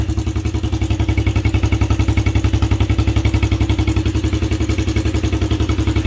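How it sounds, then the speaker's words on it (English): A small Suzuki LT125 ATV engine idles steadily up close, its low, even chugging throb unchanging throughout with a light mechanical clatter on top. "Idling pretty good."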